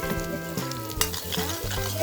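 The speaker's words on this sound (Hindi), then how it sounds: "साथ ही में मैं इसके डालूंगी अदरक लहसुन का पेस्ट" Onions fry in an iron kadhai with ginger-garlic paste in a village kitchen, giving a steady, close sizzle with soft stirring scrapes throughout and no talking.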